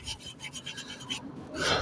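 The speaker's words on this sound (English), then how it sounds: "I'm not gonna do a whole lot of scrubbing." A brush scrubs briefly at surface rust on a Land Rover Discovery frame, giving quick rhythmic rasping strokes close by that grow slightly louder at the end.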